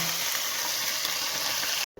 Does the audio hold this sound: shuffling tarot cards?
no